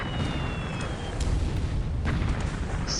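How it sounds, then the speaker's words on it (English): Shore gun bombardment in a naval warfare game set at Sambas in December 1941: a continuous low, rumbling wash of distant explosions and booms with a few sharper bursts, steady and dense with no clear gaps. "Some more bombardment and counter-bombardment from the shore guns."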